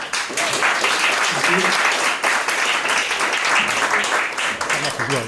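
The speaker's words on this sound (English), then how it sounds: "Big round of applause, Steve." An audience applauds a speaker from a small independent game publisher at a talk, loud close clapping with some cheering, swelling and holding for several seconds.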